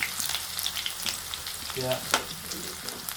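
Garlic, ginger and bay leaves fry in hot oil for a pork dry fry, a steady close sizzle. A few stirring scrapes and a short metallic clink come through over it.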